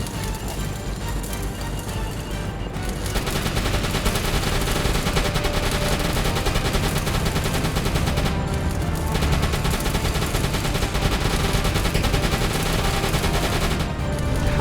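Continuous machine gun fire aimed at ships in the submarine game Uboat, a dense unbroken rattle that stays loud and steady throughout, briefly thinning twice before resuming.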